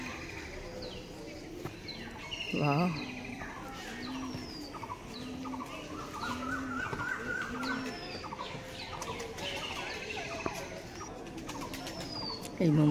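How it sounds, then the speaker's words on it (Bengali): Pigeons cooing in soft, repeated low throaty calls at an old riverside temple ghat in Panihati, with other bird chirps and clucks around and a person speaking briefly. "এই দেখুন কি পায়রাগুলো"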